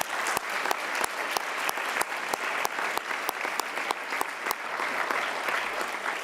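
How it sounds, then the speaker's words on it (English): Audience at a meditation gathering at the United Nations applauds steadily, a dense wash of clapping with a few sharper individual claps standing out, sustained throughout at moderate loudness. "Let's give them a big round of applause."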